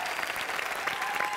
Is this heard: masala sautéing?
no